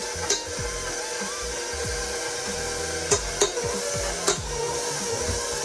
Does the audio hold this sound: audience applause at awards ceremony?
no